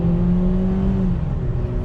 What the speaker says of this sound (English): When you are accelerating onto a highway.